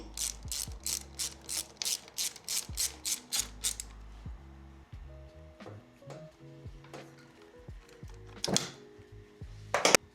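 A ratchet wrench clicks in quick rhythmic bursts while tightening bolts and the oil drain line plug on a Harley Sportster primary cover, close and clear, followed by a few metallic clanks and tool knocks.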